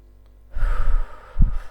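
A deep, slow exhale during a guided spiritual breathing exercise, a soft rushing breath out close to the mic, followed by a second shorter puff of air near the end, with no talking.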